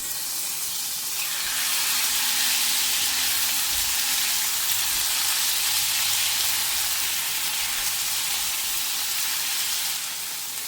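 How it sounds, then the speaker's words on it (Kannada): Marinated squid fries in hot ghee for a Mangalorean ghee roast, giving a steady, close sizzling hiss that swells slightly and continues without pause and without voices. "ನಾನಿಲ್ಲಿ ಸ್ಕ್ವಿಡ್ಡನ್ನು ಏನು ಮ್ಯಾರಿನೇಷನ್ ಮಾಡಿ ಇಟ್ಕೊಂಡಿದ್ದೀನಿ ಅದನ್ನು ಸ್ವಲ್ಪ ಫ್ರೈ ಮಾಡ್ಕೊಳ್ತಾ ಇದ್ದೀನಿ."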